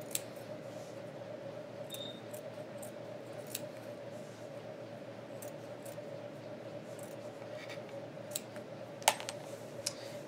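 Scissors cut fabric ridges for a blanket, making soft, faint snips and clicks scattered over a steady low room hum.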